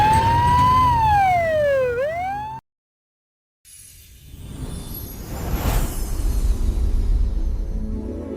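A loud wailing vehicle siren sweeps up and down for about two seconds and cuts off abruptly, followed by silence and then a rushing whoosh of passing traffic building in intensity.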